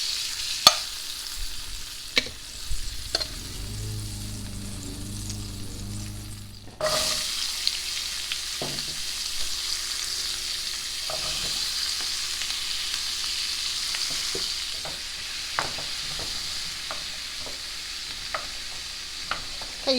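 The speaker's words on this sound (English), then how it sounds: "you want to saute these till they're softened, probably about 5 minutes" Vegetables sautéing in a hot pan, heard close: a low rumble at first, then a steady bright sizzle that runs on, broken by occasional clinks and scrapes of stirring.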